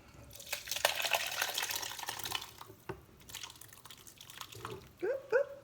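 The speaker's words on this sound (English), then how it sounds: "we want to take half of what's in this pot and pour it in there" Half of a pot's contents is poured into another container in a home kitchen, giving a steady splashing, trickling pour for a few seconds, then a couple of short clinks and drips near the end.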